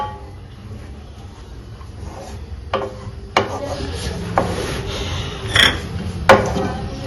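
Babbarla (cowpea) fry being stirred with spice powders in a pan, scraping and rubbing of a spoon on metal with a few sharp clanks, fairly close and loud, no voices.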